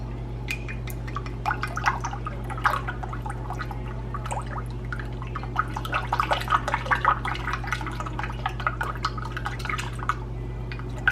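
Bouillon and water pour into a cooking pot in a home kitchen, a steady trickle with many small splashes and drips over a low constant hum, close and moderately quiet, with no talk.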